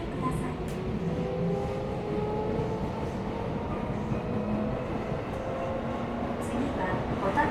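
Tokyo Metro 17000 series subway train on the Yurakucho Line, heard from inside the car: a steady loud rumble of running gear and motor hum with tonal whine, continuous throughout, with faint voices or announcements in the background.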